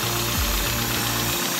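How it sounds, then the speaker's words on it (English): A running engine with a blown exhaust gasket and intake gasket drones with a rough, pulsing rumble and a broad hissing rush of escaping air from the exhaust leak, close and continuous throughout. "the exhaust leak noise and that air noise, that pressure noise"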